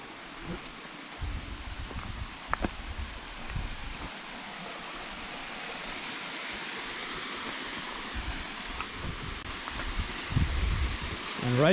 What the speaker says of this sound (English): And right here we have our first waterfall.